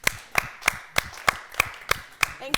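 Audience clapping at a talk show discussion, heard as a slow, sparse run of about nine evenly spaced claps, moderately close and fairly quiet, with no talk over it.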